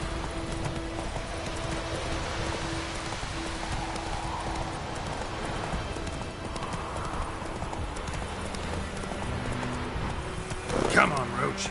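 Roach the horse gallops in The Witcher game, hooves clip-clopping in a steady quick rhythm with rain in the background, ending in a short louder burst; a voice talks over part of it.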